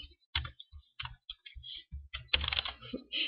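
Keys clatter on a computer keyboard in a quiet room, close up. Short bursts of clicks come in an uneven rhythm, with brief pauses between words and a busier flurry near the end.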